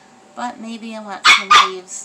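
Indoors, a puppy pesters an older dog with two sharp, close barks in quick succession, coming over and right after a person talking.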